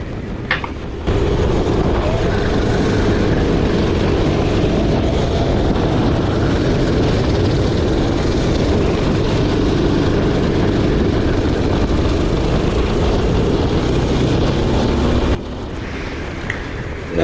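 Racing kart engines during a two-hour endurance race at Le Bignon: a steady, loud droning engine roar held for about fourteen seconds, beginning and ending abruptly.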